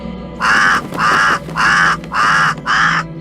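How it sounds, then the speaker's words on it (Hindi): A crow caws loudly and nearby, five harsh calls in an even rhythm, each about half a second long, ringing out clearly over a faint background hum. "वो कौवा इतना चिल्ला क्यों रहा है?"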